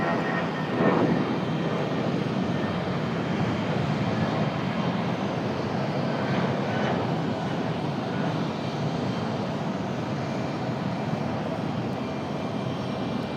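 A departing airliner roars steadily from the runway at Raleigh-Durham airport, a broad, constant engine rumble heard from a distance that holds level throughout with no other sounds.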